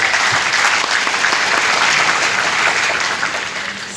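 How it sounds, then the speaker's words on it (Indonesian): A large audience at a graduation ceremony of an Islamic college, Sekolah Tinggi Agama Islam Al-Hikmah, gives the graduates dense, sustained applause, loud and continuous with no talking over it. "Tepuk tangan untuk kalian."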